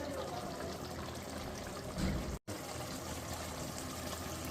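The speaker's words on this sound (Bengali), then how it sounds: "জলটা দাবাতে দেখুন না ফুটতে শুরু করে দিয়েছে" Fish curry broth for a Bengali yogurt-based katla dish bubbles at a steady boil in a pan, giving a continuous hissing simmer with a brief break midway.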